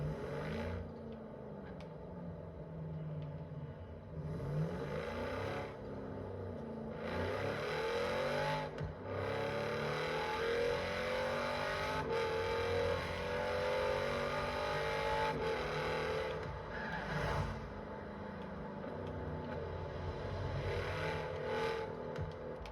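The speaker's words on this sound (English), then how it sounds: "I'm gonna turn around the car" A Lamborghini Urus SUV's engine hums and rises in repeated revs while the car turns around, a continuous close-up drone with pitch sweeping up and down.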